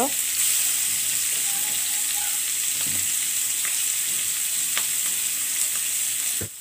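Pangasius fish pieces sizzling and frying in hot oil with taro, a steady loud crackle with a few light clicks and stirring knocks, no talking.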